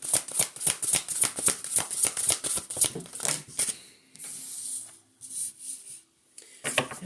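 A deck of tarot cards being shuffled close up, with quick rhythmic riffling flutters in a fast run, then a pause and a few softer, slower shuffles near the end.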